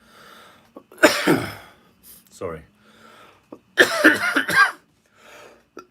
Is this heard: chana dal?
no